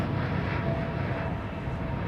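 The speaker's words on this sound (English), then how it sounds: "Rolls-Royce powered 787, all of Virgin's fleet, Rolls-Royce powered." A Virgin Atlantic Boeing 787 with Rolls-Royce engines departs Heathrow, giving a steady, broadband jet roar that stays loud and constant throughout, with no talk over it.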